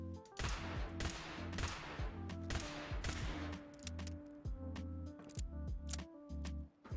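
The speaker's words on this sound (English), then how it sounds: "Rather than loading in 6 bullets, you load in one entire fusion cell" Fallout 4 laser revolver pistol firing in-game after loading a fusion cell, a loud rapid run of sharp energy-weapon shots in quick bursts with a low droning hum beneath, no talk.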